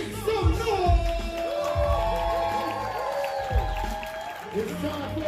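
Live studio audience at a comedy show taping cheering, whooping and making noise, a steady crowd roar with loud voices shouting over it throughout.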